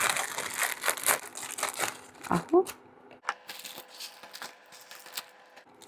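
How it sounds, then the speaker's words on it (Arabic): Crinkly plastic rustling and crushing as an Indomie instant noodle packet is torn open, close and fairly loud in bursts, with someone speaking briefly over it. "هبدا بقى كده افتح كيس الاندومي"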